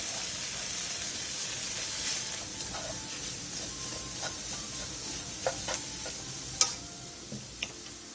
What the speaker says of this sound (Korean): 계란이 대충 섞였으면 계란이 익을 때까지 부추와 계란을 함께 볶아주세요.